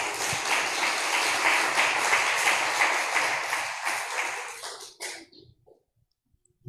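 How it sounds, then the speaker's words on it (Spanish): Congregation applause fills a church hall, a dense steady clapping from many hands that tapers and dies out near the end, leaving a few last scattered claps. "Denle un aplauso al que vive"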